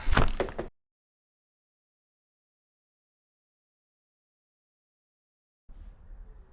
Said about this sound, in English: pull open this door in her new Horry County location